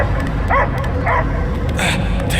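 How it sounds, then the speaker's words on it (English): A dog in the Guardians of the Galaxy video game barks in four quick, loud yips and woofs spread over a couple of seconds, heard over a low rumbling game background. "I hear only barking"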